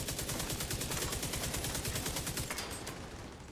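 An automated turret in The Division 2 fires rapid, evenly spaced bursts of gunfire that keep up a steady, dense clatter for the whole stretch, loud and close, easing slightly near the end.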